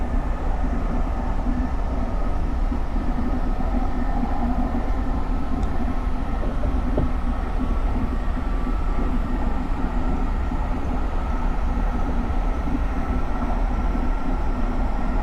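A simulated GE Silverliner IV electric commuter train on SEPTA's Trenton Line runs at speed, a steady, continuous rumble with rail hum holding evenly for the whole stretch, no voices over it.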